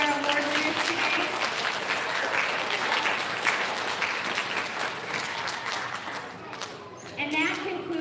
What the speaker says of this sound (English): Can we get one more big round of applause for all of our award winners today?